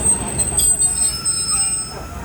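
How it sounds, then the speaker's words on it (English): SRT train 44, a northbound second-class sleeper service from Surat to Bangkok, passing at Lang Suan in Chumphon, Thailand: a steady, loud low rumble of railcars rolling by close, with some faint high squeal above. "This is train 44 northbound"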